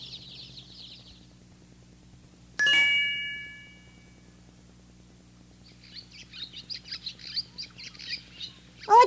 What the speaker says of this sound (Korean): 저 나무에 새가 앉아있어요.